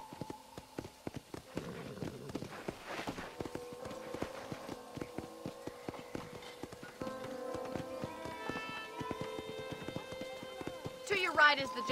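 Horse hooves clop in a quick, regular rhythm as a horse gallops in the Red Dead Redemption video game. The hoofbeats are moderately close and play over tonal in-game music and effects.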